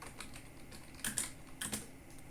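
Code being typed on a computer keyboard: quiet, fairly quick keystrokes close up, a couple of sharper clustered taps standing out, with no talking over it.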